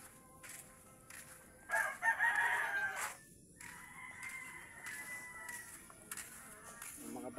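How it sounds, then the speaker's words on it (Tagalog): A rooster crows once in the distance at a rural village setting, a rising then sustained call lasting about a second, with people talking faintly around it and other birds in the background. "Yan, may manok."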